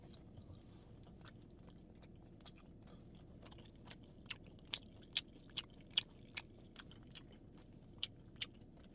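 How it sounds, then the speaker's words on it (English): Lamb is chewed close to the mic in a quiet car on a night drive, with soft mouth sounds punctuated by about a dozen crisp, crunchy bites in an irregular rhythm. "Maybe it's not so soothing and cool that to listen to me chewing lamb"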